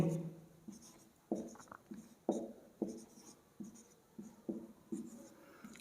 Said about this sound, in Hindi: अगर आपको A क्रॉस B करने को कहे तो आप देखेंगे कि सबसे पहले अपने मैट्रिक्सेस को लिखेंगे